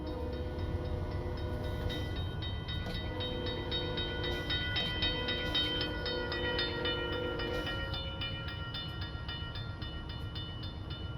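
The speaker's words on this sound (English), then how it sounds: "I'm like, why is my train not wanting to speed up?" KCS diesel freight train powering up along the Shreveport Subdivision in the Train Sim Classic simulator, with a steady droning engine hum and layered tonal whine, continuous and close with no voices.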